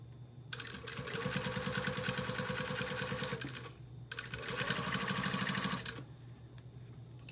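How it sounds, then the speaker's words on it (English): Two bursts of fast, rhythmic sewing machine stitching, each a few seconds long, with a brief pause between, sewing over a previous stitch line on a double welt pocket; fairly quiet and close. "I'm stitching right on top of our previous stitch."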